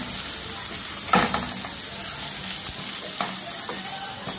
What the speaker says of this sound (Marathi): आणि हे जरा फ्राय व्हायला द्यायचं